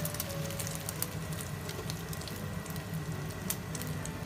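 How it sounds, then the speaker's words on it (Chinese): Bitter melon and beaten egg frying in hot oil in a wok over low heat, giving a steady, close sizzle with a dense crackling hiss throughout and occasional sharper pops. "倒入苦瓜鸡蛋，转小火，将苦瓜分布均匀"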